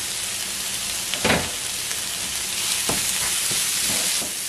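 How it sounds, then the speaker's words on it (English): Onion and garlic, salted, fry in a pan with a close, steady sizzling hiss, broken by a few louder bursts of crackle and stirring. "we're gonna cook our onion"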